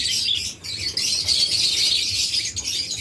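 Pet lovebirds and budgerigars chirp and tweet continuously at a bird shop. The high chatter is bright and busy, with overlapping calls at close range.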